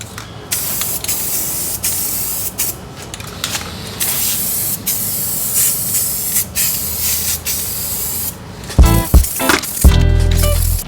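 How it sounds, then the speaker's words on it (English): Black spray paint hisses from an aerosol can onto a wooden fence picket in short and long bursts, close by, with a few rattling clanks of the can being shaken near the end. "to go ahead and spray paint it black so it can be drying before we put the rest of it together"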